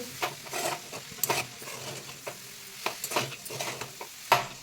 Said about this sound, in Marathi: जोपर्यंत आपले मिश्रण घट्ट होत नाही तोपर्यंत आपल्याला असे एकसारखे तळापासून हलवून घ्यायचे आहे